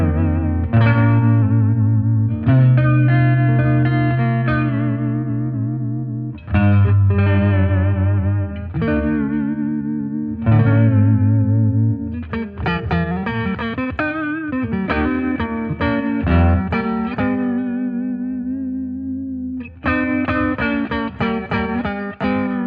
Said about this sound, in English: They're vibrato because it changes the pitch of your note